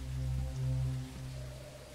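Rain falls outside in the horror video game MEAT, a soft steady patter under a low droning hum, faint and continuous with no voices.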